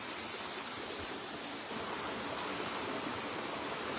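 Flowing water makes a soft, even rushing hiss, steady and fairly quiet throughout, swelling slightly toward the end with no other sounds standing out.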